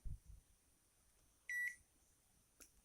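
A single short electronic test beep sounds from a meter while probing a TV power supply board during fault diagnosis, a brief clean tone in a quiet room with a faint click near the start and end.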